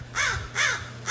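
Harsh, loud crow caws ring out three times at a steady pace, close by and outdoors near a home, with no voices.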